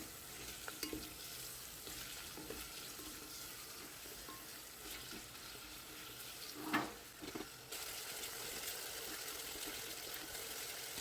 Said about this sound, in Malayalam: സവാള വഴന്ന് വരുന്നവരെ നമുക്ക് ഇളക്കി കൊടുത്തുകൊണ്ടേയിരിക്കാം